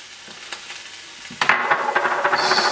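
Curry paste for coconut curry beef ribs hits a hot pot and sizzles loudly, with a quiet stir or two first and then a burst of steady frying and stirring scrapes continuing close up.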